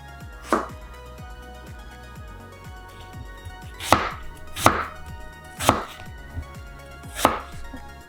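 A knife cuts through apples for a Polish apple pie, five distinct sharp chops landing on a board at irregular intervals, close and clear over a quiet background.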